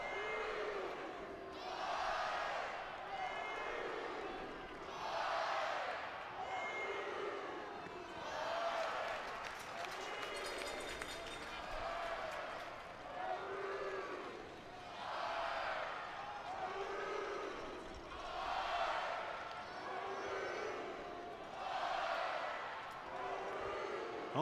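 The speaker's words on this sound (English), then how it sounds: "Home crowd making some noise." A home crowd at a Georgia vs Mississippi State college baseball game roars and chants in rhythmic, repeating swells. The sound rises and falls every couple of seconds at a moderate distance, with faint commentary underneath.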